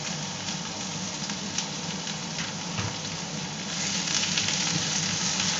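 Three large cut onions sizzle steadily in a hot pan while being sautéed toward browning, a close, continuous frying crackle with no talking.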